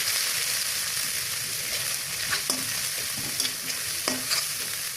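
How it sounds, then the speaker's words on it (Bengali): Beef liver with onion, garlic, ginger and cumin paste sizzles steadily in a pan, while a spoon scrapes and stirs with a few distinct clacks against the metal; nobody speaks. "ভালো করে নেড়ে চেড়ে কালার করে নেব।"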